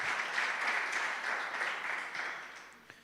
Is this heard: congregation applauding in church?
yes